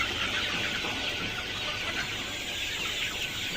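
A flock of chickens on a poultry farm clucking continuously, many overlapping birds close and far, a dense steady chorus with no talk.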